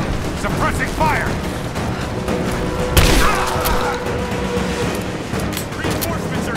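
Suppressing gunfire in the video game Rise of the Tomb Raider, with scattered shots and a loud impact amid a busy battle mix, while voices shout in the background.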